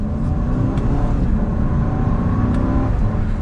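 A 2021 Range Rover Westminster HSE pulls hard in second gear to get up to speed, its engine giving a steady, full drone with a slight rising strain throughout and no voices.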